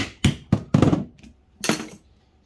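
A hammer strikes a screwdriver forced into a scrap part to split it, giving about five sharp metallic knocks in uneven rhythm, close and loud, with no talk.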